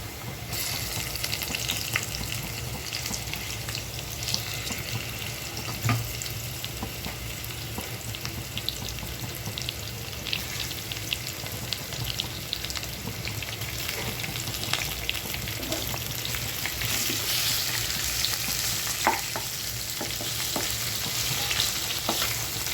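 Hilsa fish frying in oil with browned fried onions, a steady dense sizzle running throughout with occasional stirring scrapes, close and even in level, no talk.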